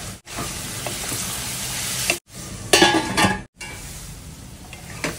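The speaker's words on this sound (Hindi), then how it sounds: "सब्जियां थोड़ी सी सॉफ्ट हो जाए तब तक हम इसे पका लेंगे। बीच बीच में इसे चलाते रहेंगे।" Vegetables for vegetable poha frying and sizzling in a pan while being stirred, a steady close hiss broken by brief pauses and scraping stirs, with no talk.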